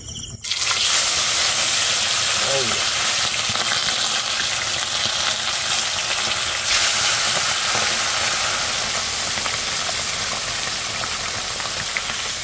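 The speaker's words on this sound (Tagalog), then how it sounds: "Prito na natin tong ating mga tilapia." Tilapia fish frying in hot oil, a loud, dense, continuous sizzle that starts abruptly as the fish goes in and holds steady close up for several seconds.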